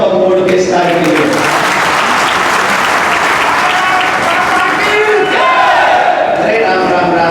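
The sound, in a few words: audience applause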